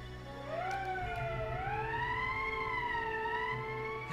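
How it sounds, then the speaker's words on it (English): An emergency siren in Valkyria Chronicles wails, rising and falling in long sweeping tones, steady and fairly loud, with a low rumble beneath and no talking. "That's the emergency siren."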